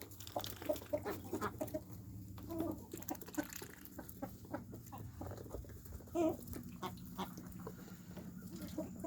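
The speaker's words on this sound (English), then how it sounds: "Got my little speckled chicken." A speckled backyard hen clucks in short, repeated bursts, fairly close, among other farmyard fowl, with low background rumble and no talk.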